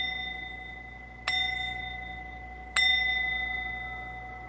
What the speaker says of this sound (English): I'll just ring the bell here.